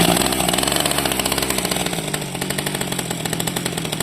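Small two-stroke hedge trimmer engine mounted on a homemade motorized bicycle, its throttle fixed to the handlebar, running loud and close with a rapid, buzzing, steady chainsaw-like drone and no talk.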